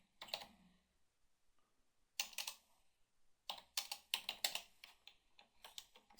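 Keyboard typing at a computer during an After Effects session, in short bursts of quick clacking keystrokes separated by pauses, fairly close and distinct with no voice.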